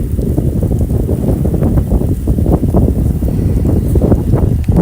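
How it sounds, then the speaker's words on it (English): Loud, steady wind buffeting and rumbling close to the microphone during a rainy tornado-outbreak storm in Iowa, constant for the whole stretch. "It is super windy out here."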